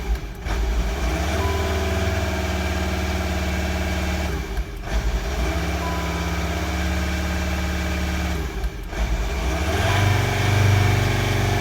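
A VW T5 van with a failing alternator runs its engine with a steady idle hum that twice drops out and restarts, then the revs swell near the end, heard alone without talk.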